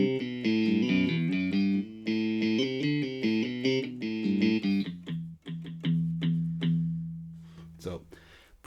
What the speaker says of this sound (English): is a little bit more of an electric guitar sound.